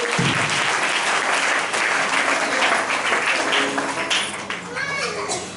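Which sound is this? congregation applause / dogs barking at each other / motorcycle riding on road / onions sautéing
congregation applause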